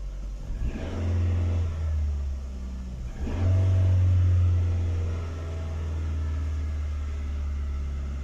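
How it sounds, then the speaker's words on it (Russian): A cold Ford Focus engine idling after throttle body cleaning, a steady close low drone that surges briefly twice and then settles back to a lower, even idle with no talk. "Обороты падают прямо на глазах, хотя холодная, не заводил еще сегодня."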